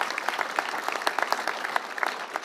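An audience at a Newport News development announcement applauds, a dense burst of many hands clapping close and loud without pause.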